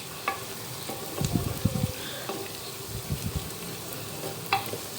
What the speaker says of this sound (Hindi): ये आप देख सकते हैं, ये प्याज जो है वो फ्राई होना शुरू हो गई है।